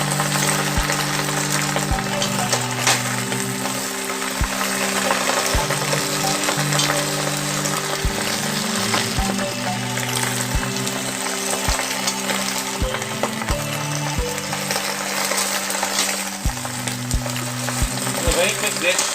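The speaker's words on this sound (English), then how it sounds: "make sure you constantly keep stirring the bok choy" Bok choy stir-fries with garlic in a wok for a Cantonese-style dish, giving a loud, continuous sizzle with regular metallic clanks and scrapes as it is constantly stirred, close and busy throughout.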